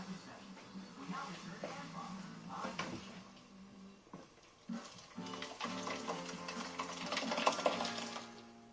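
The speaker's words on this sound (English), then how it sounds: "Mixing it up and let your sauce fry" Tomato sauce fries in a pan with a steady, close sizzle and the scrape of stirring, while voices talk over it.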